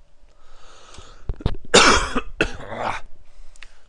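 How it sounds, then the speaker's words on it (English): Repeated coughing with a throat-clearing quality, several harsh bursts in a row at close range and fairly loud, with no talk over them. "Why am I coughing so much?"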